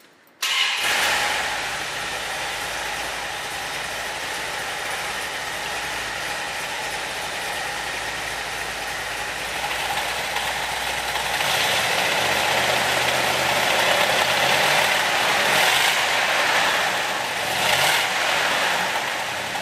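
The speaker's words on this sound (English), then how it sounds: "this big block mill is good for a nice round" A 1971 Dodge Challenger R/T with a big-block Magnum V8 idles steadily and loudly up close, its rumble swelling partway through as the engine is revved a little higher before settling.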